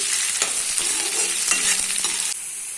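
Tomatoes hiss in hot oil as a spoon scrapes and stirs them in a few quick strokes, the loud close sizzle easing slightly near the end.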